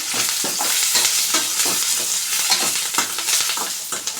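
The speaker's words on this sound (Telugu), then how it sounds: "మళ్ళీ ఒట్టి మిరపకాయలు ఒక నాలుగు కరేపాకు సాల్ట్ కొంచెం ఇప్పుడు ఇవి కలుపుకున్నాము" Dried red chillies, curry leaves and salt stirred in a hot frying pan, with steady sizzling and repeated scraping strokes of the spoon, close and continuous, no talking.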